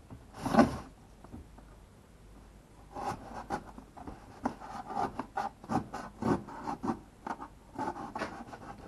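Close scraping and slicing of a knife through cardboard in uneven bursts of short strokes after a brief thump, with quiet pauses between cuts.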